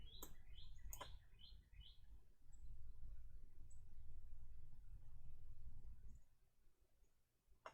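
A bird outside gives a quick burst of short, high chirps early on, faint and distant over a steady low hum, followed by a long stretch of near-quiet background.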